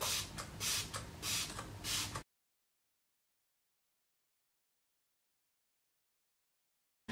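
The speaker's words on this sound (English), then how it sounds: "So I just take a couple sprays to set the liquids." MAC Fix Plus setting spray mists onto a face in a few quick, close bursts of hiss over about two seconds, then silence follows.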